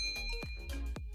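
A bright notification bell rings twice, each ding clear and ringing briefly, over a quiet bed of tones.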